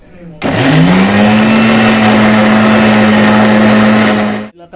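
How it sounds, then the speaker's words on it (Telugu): A mixer grinder blends onion, green chilli and coriander for fish curry, starting with a rising whine that settles into a loud, steady motor drone for about four seconds before stopping abruptly. "ఇప్పుడు దీన్ని మనం మిక్సీ పెట్టుకున్నాం."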